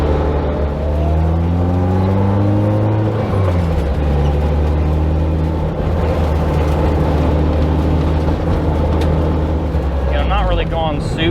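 A Toyota AE86 with upgraded rear springs cruises at low speed, its engine droning loudly and rising through gear changes, while a voice talks at times over the steady road noise.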